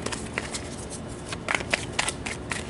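Tarot cards being shuffled by hand in quick repeated riffles, crisp papery snaps that bunch together near the end.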